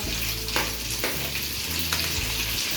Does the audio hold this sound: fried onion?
yes